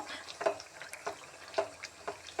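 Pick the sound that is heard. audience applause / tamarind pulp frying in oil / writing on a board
tamarind pulp frying in oil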